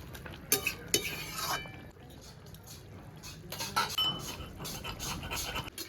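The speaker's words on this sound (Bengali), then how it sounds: "আগে থেকে ভেজে রাখা মাছের পিসগুলো দিয়ে দেবো পিসগুলো দিয়ে ভালো করে একটু রান্না করে নেবো" Fried rohu fish pieces being stirred into a curry in a kadai, with metal utensil clinks and scrapes in bursts over a low cooking sizzle, and no talking.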